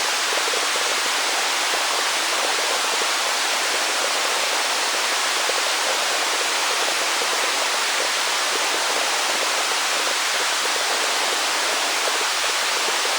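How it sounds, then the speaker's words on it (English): Synthesized running water with bubbling and reverb, patched in VCV Rack: a loud, constant, broadband hiss of flowing water like a waterfall, steady throughout with no talking. "So the amount of bubbling is comparable to what the water flow sounds like."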